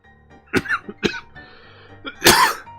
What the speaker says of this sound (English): Jeez, I don't know why I'm coughing.